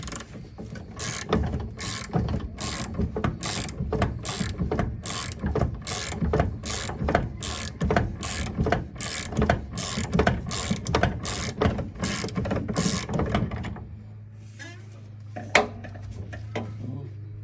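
A ratchet clicks rapidly and steadily while loosening a nut on the steering gear of a John Deere lawnmower, close and continuous for about fourteen seconds before stopping, leaving a faint hum.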